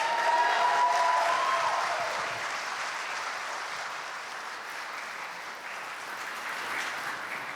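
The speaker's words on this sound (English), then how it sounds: "So please give them a big round of applause." Audience applause fills a hall at the Horror Game Awards, a steady wash of clapping that starts loud and gradually thins out, with no voices over it.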